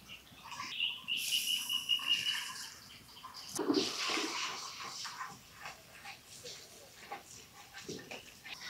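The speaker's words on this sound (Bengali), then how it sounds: "এবার একটু জল দেব।" Water splashes onto ground cashew and poppy seed paste in a pan for a vegetarian cauliflower curry: a short, close, splashy pour followed by quieter clatter and faint bird-like chirps.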